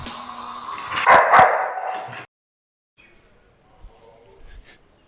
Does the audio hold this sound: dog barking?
yes